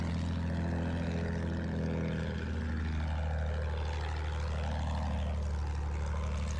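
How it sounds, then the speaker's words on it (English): A propeller plane circles overhead in a multiplayer war video game, its steady droning engine swelling and sinking in pitch as it passes around, loud and continuous with no talk. "There's a plane circulating our spawn"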